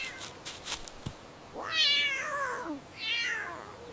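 A few soft clicks, then a cat meows twice, close and clear, the first meow long and drawn out, the second shorter.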